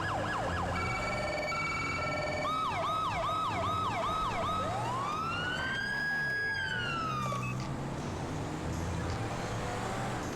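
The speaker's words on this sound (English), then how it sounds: "sirens are working here." A police car siren in the GTA5 LSPDFR mod, cycling from rapid yelping pulses into a slow rising-and-falling wail. It is loud and close, with a low engine hum beneath and no talking.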